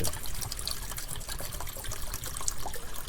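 Water trickles and splashes steadily into a saucepan for a brew in a shed, a close continuous pouring with gurgling bursts and no talk.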